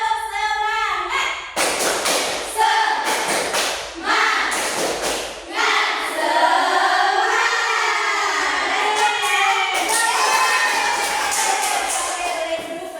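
A classroom of children performing the 'tepuk semangat' spirit clap again, bursts of sharp rhythmic handclaps and thumps repeated in quick patterns, loud and close, with a teacher's voice in the room.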